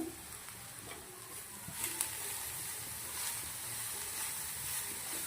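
Grated cabbage, cauliflower, carrot and beetroot hit a hot pan for garlic chilli momos masala, giving a steady close hissing sizzle with faint stirring clicks.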